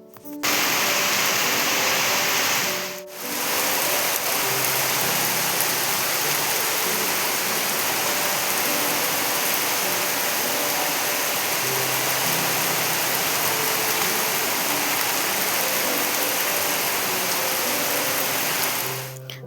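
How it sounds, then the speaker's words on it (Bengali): Heavy rain pours steadily, a loud, close, uniform roar of water on surfaces that cuts out for a moment near the start before continuing unbroken. "তোমরাই দেখো কি পরিমাণে বৃষ্টি হচ্ছে"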